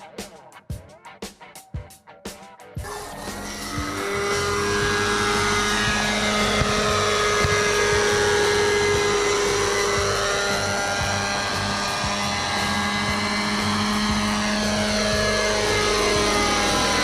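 Nitro RC helicopter in flight, its engine and rotor building from a few sharp bursts into a loud, steady drone with shifting whine that holds close and continuous throughout.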